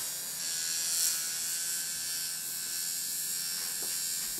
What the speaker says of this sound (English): Appears to be a nose trimmer.